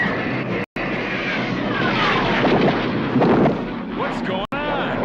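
Cartoon missiles launching from a military action series: a loud, sustained roaring rush with sweeping whistling tones and booming blasts filling the whole span, cut by two brief dropouts.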